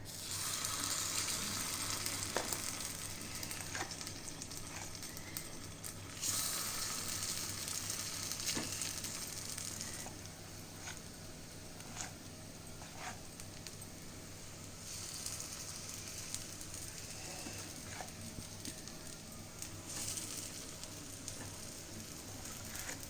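Lentil vada fritters cooking in a pan without oil, a soft continuous sizzle with a few small clicks, low and steady for the whole stretch.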